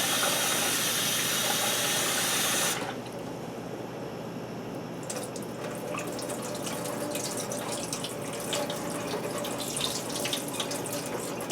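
Running tap water pours into a kitchen sink while raw Japanese rice is swished and rinsed in a bowl. Loud steady gush at first, then a softer continuous flow with faint splashing, no talking.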